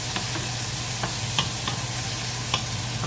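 Prawns sizzle in a frying pan while being stirred, with a steady low frying hiss and a few light scraping clicks spread through the short stretch, no voices.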